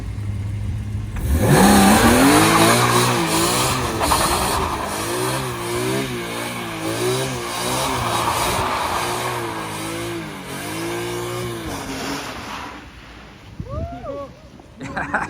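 Cars passing on a wet road at a car meet, including a BMW F80 and an E92: an engine revs up loudly and drives close past, its note rising and falling, then fades as people talk nearby.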